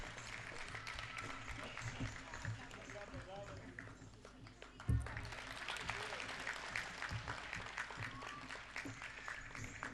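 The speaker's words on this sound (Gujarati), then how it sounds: "તાળીઓનો ગડગડાટ" An audience at a dance debut (arangetram) claps in steady, dense applause that rises after a brief lull, with a sharp thump midway and voices mixed in.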